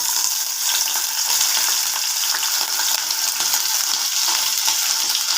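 Sliced potatoes fry in oil with a dense, even sizzle that holds for several seconds, close and fairly loud, with faint stirring scrapes beneath and no talking.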